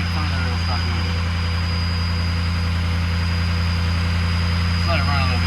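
Engine left running, a steady, loud, even drone with a constant low hum that holds throughout, with a faint voice briefly audible over it.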